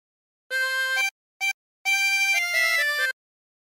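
Harmonica playing the opening phrase of Lavender's Blue: clear reedy single notes, one held note, a short blip, then a longer run of stepping notes. Played solo and up close.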